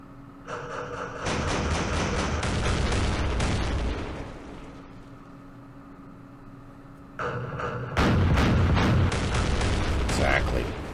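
Artillery guns firing in the war strategy game Campaign Series Middle East during the Battle of Port Said, loud sustained rumbling bursts in two long stretches separated by a quieter gap.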